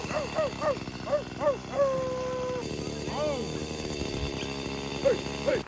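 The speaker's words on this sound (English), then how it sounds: "I got the chainsaw out for the first time the other day to make some log slices." Chainsaw cutting log slices, its engine revving in repeated rising bursts over a steady running drone, with nearby dog-like yelps mixed in; no talk.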